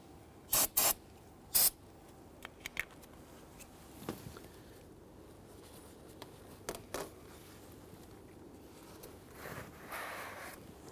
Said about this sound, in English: Let's go ahead and spray this down with some solvent and clean up any residual brake fluid.